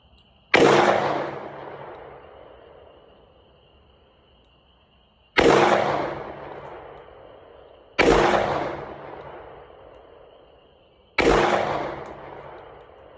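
Four loud single gunshots from handgun shooting practice at a range, each a sharp crack with a long decaying echo, spaced a few seconds apart, with no talking.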